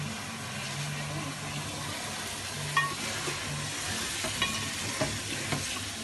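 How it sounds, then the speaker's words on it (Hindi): Onions and spices, including red chili, turmeric, coriander and garam masala, fry steadily over high heat for chicken kadai, a continuous soft sizzle at moderate level with a few faint clinks of a stirring spoon. "तो हम चूल्हे को तेज कर लेंगे ताकि अच्छे तरीके से फ्राई हो जाए"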